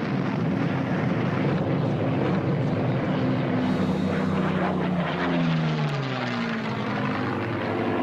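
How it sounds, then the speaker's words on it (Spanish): Propeller aircraft engines drone loudly and continuously during a massive 1940 Third Reich air raid over British cities, a dense multi-engine roar with pitches sliding downward as planes pass overhead. "Incursión aérea masiva del Tercer Reich sobre las ciudades británicas."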